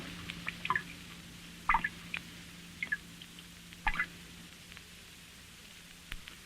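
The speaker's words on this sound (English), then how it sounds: "Here is some water dropping into a small tank" Water drips fall one by one into a small tank, picked up by an ordinary studio microphone, sparse and irregular plinks over a faint steady hum.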